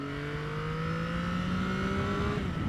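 A Yamaha XSR900 GP motorcycle on the open road, its engine droning loud and steady with rising pitch as it accelerates, then easing briefly near the end, with wind noise underneath.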